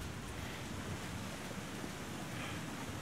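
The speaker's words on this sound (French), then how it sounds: "il y a du vent par là" Steady, broadband wind blows across a snowy mountain valley in the survival game The Long Dark, a continuous close roar with no pauses or voices.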